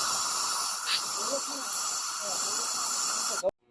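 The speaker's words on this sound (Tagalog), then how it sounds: "maglagay ng hangin sa ilalim gamit ang air duster" A steady, loud hiss of compressed air from an air duster blowing under a scooter cylinder head during a compression leak check, continuing for several seconds, then cutting off abruptly.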